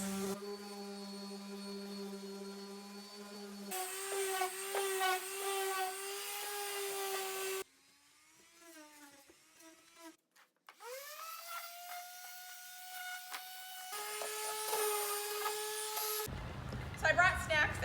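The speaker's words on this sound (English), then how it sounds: "we have some 60 grit sandpaper, and we're using a hand sander or a power sander" A power sander runs over wood with 60 grit sandpaper, a steady motor whine that shifts pitch between passes, briefly drops away, then starts up again near and loud.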